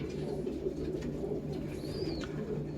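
Pigeons, among them a large black-spotted female kept for flying, coo in low, continuous, overlapping murmurs close by, with a faint higher bird call partway through and no talking.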